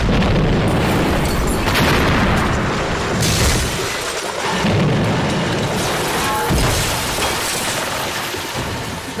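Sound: SC-1000 bomb explosion demolishing terraced houses

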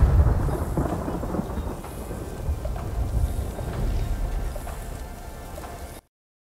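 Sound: thunder in the video game Ghost of Tsushima

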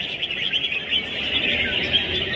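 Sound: caged songbirds singing at a bird singing competition

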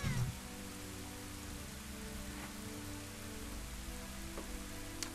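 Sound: rain in the video game The Legend of Zelda: Ocarina of Time

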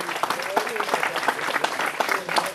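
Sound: applause for a cyclist

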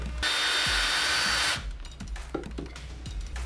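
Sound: drilling a hole in a dry erase board circle

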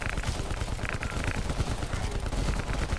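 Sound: LMG gunfire in the video game Call of Duty Black Ops Cold War

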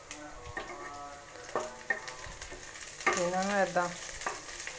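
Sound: chillies sizzling as they're added to frying masala

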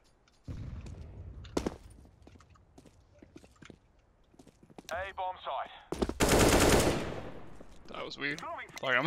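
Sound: gunfire in a first-person shooter video game

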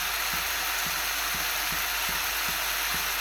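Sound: onions sautéing in a pan

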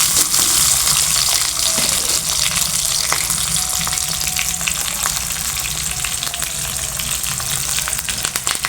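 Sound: small onions (shallots) sautéing in a pan for poduthalai kuzhambu

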